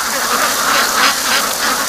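A flock of ducks crowds around someone holding a hose while an area is being washed, their dense overlapping quacks close by and continuous, over a constant hiss of running water.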